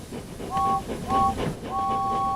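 James, a steam engine from Thomas and Friends, gives a two-tone whistle in three short toots, the last one held longer, over a rumbling rail background.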